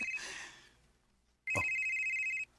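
A phone rings with an incoming call, one sharp electronic ring tone about a second long, close and clear after a quieter stretch of background sound.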